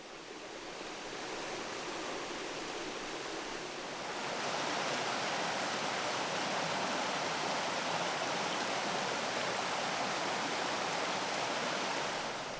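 Water from a spring-fed stream in a mountain hanging valley rushes steadily and close by, a dense continuous wash with no voices, swelling somewhat louder partway through and holding that level.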